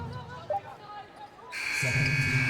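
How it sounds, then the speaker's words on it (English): A loud, sustained electronic final buzzer in a basketball video game sounds abruptly after a stretch of quieter game noise and faint crowd murmur. "Final buzzer sounds, and that'll do it."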